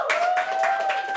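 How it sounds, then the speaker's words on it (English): On a game show, a brief burst of clapping rises and falls in quick rhythmic pulses for the week's contestant, while a steady sustained tone runs underneath. "Let's give our contestant this week a massive round of applause."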